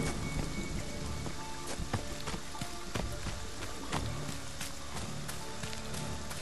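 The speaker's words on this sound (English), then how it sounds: "That might be because of the rain." Steady heavy rain patters and hisses continuously, with scattered louder drops striking surfaces up close throughout, in the video game Friday the 13th: The Game.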